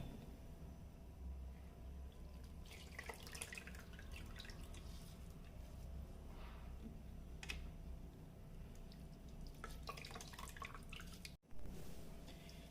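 Water drips steadily from washed, grated potato as it is squeezed out by hand, a constant low patter with scattered brighter splashes, close and fairly quiet, with no talking.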